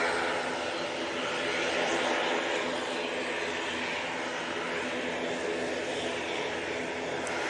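A Loganair propeller aircraft leaves Manchester Airport for the Isle of Man, giving a steady, moderately distant engine drone that holds at an even level throughout.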